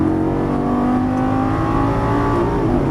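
A Lamborghini Gallardo LP550 on a track accelerates out of a turn, its engine droning steadily and loud for the whole stretch, pitch holding fairly even with a slight rise, with no talking over it.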